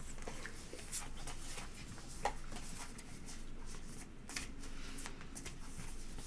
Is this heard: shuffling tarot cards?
yes